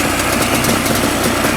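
A Yamaha Banshee two-stroke engine idles steadily right after its carburetors were synced, giving a close, continuous, rough burbling rattle that stays even throughout with no talking.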